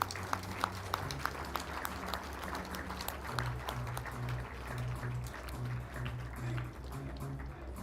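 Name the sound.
audience applause at event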